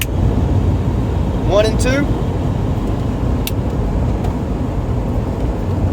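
A car driving on the road, its steady engine and road rumble filling the background continuously while a person talks over it.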